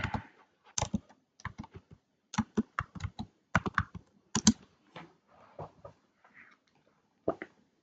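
Fingers type on a computer keyboard in quick, irregular bursts of close, crisp key clicks separated by brief pauses, with no voices.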